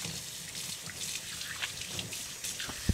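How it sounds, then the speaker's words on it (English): Hands being washed under a running kitchen tap during pie-dough preparation, with a steady soft hiss of flowing water and light splashing throughout. "let's clean our hands"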